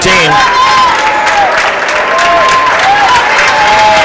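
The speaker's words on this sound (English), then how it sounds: "Pombrio gets a round of applause from the PHS faithful" Home crowd of PHS fans applauding a boys' basketball team captain at a high school game in a gym, steady dense clapping and cheering throughout, loud and close, with faint whistles or squeaks.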